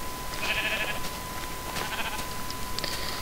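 Minecraft sheep bleat in a few short, thin calls spread across a steady background hiss, moderately loud with no talk over them.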